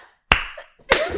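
A single sharp hand clap rings out close and loud, followed by a second clap a little over half a second later, both standing alone in near silence.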